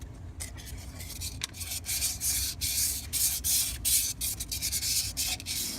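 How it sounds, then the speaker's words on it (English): Sandpaper scrubs back and forth over the rust-scarred cylinder walls of a 2010 Chevy Cobalt engine, a close, steady rhythmic rasping with short pauses between strokes. "Sandpaper."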